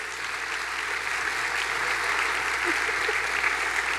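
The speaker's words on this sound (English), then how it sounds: "Another round of applause," Sustained audience applause fills a recognition breakfast honoring a school district employee's 35 years of service, a dense steady wash of many clapping hands that holds even for about four seconds.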